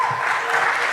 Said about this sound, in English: Let's all give a round of applause to Tynan.